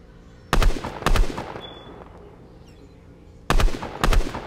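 Gunfire in Fortnite, a battle royale video game: two loud sharp shots, a pause of about two seconds, then two more, with no talking.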